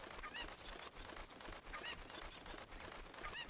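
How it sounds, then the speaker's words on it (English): Cucco chickens cluck in the video game Zelda: Ocarina of Time, with repeated short squawks over a steady hiss, faint and with no talk. "collect all the cuckoos or Zelda chickens"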